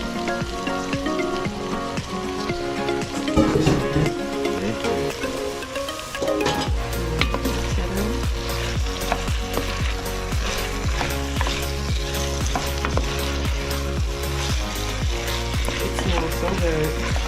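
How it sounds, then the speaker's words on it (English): Loud steady sizzling and frying as seared beef goes into a pan with vegetables and tomato paste for a Spanish-style beef stew, with a burst of stirring before the pan settles into constant crackle. "I'm gonna let this tomato paste cook a little bit with the vegetables, and I'll return. Time to add the seared beef."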